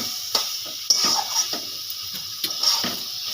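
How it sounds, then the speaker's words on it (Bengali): Taro greens (kochu shak) being stirred in a cooking pan, with intermittent scraping and clinking of a utensil against the pan over a faint steady sizzle, a few sharper knocks standing out. "এই দেখুন, কচু শাকটা এরকম করে নাড়তে পারে।"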